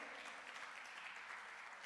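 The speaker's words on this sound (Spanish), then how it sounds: "Dele un aplauso al Señor, aleluya." A church congregation claps in praise during an evangelist's sermon on Revelation, a continuous dense wash of applause heard faint and somewhat distant, with no voices on top.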